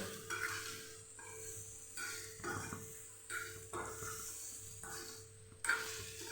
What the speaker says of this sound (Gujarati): ચમચા કે ચમચી વડે આવી રીતે મિક્સ બધું કરી શકો છો